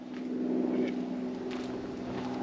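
A plane passes above a former WW2 bomber airfield, its engine a steady, low droning hum that stays fairly loud and even throughout, with no talk over it.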